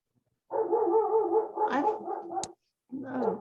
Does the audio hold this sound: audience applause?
no